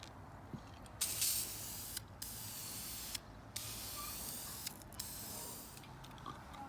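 Wrinkle paint sprayed from an aerosol can onto an engine rocker cover in a horizontal coat, a series of hissing bursts with short gaps between them, close and steady, with no talking.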